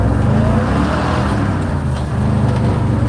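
A car powered by a 360 FE engine that leaks oil is driving, giving a loud, steady low rumble with road noise close by.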